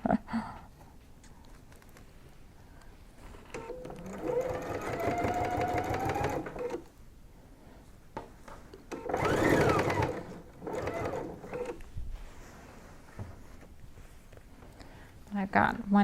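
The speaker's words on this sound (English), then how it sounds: "Let me sew down a ways, then we'll show you what it looks like." A sewing machine stitching binding onto a large quilt, running in steady bursts of rapid needle rattle separated by pauses, with a person talking quietly between the bursts.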